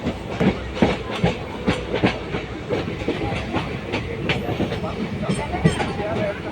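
Train running on railway track as it arrives at Ottapalam, steady rolling roar with repeated clickety-clack wheel beats close by throughout, on a Coimbatore to Shoranur line.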